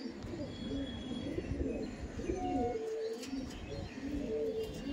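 Madras pigeons at a seller's loft cooing softly and repeatedly, low murmuring calls overlapping at moderate distance with a few faint chirps, no talking.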